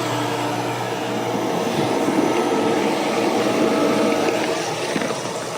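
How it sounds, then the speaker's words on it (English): An above ground pool pump running as water flows in, a steady broadband rushing hum with a low motor drone, constant and fairly close, with no voices. "So water's coming in."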